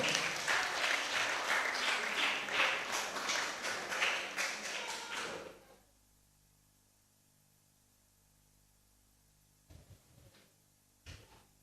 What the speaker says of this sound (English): Come on, a lusty round of applause